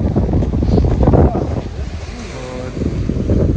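Sea waves wash onto a beach in strong wind, with heavy low rumbling gusts buffeting the microphone throughout.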